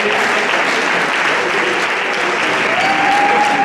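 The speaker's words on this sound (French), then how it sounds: "Pasteur Pébé, sous vos acclamations, s'il vous plaît." A crowd at a Congo-Brazzaville wedding dinner claps and cheers steadily for Pastor Pébé, thick continuous applause at full loudness, with a faint voice briefly audible within it.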